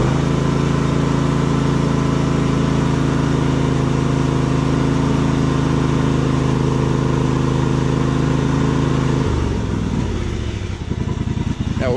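A John Deere GT245 lawn tractor engine idling close by, a loud steady low drone that shifts and roughens near the end.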